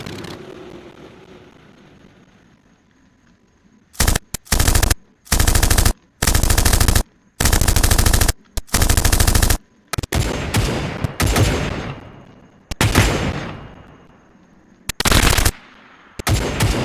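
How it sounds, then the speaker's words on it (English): MG-17 machine gun firing in the video game Arma 3, loud long bursts after a low engine hum, with rapid rhythmic rattling bursts separated by short gaps and echoing tails. "So actually a different sound for the MG-17 there, which is interesting."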